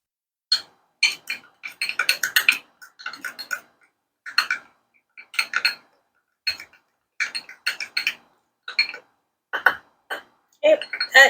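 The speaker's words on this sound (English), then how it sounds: "And then I'm just going to stir this up." Garlic and extra virgin olive oil are stirred in a bowl, giving a run of quick close clinks and taps in irregular bursts with short pauses between them.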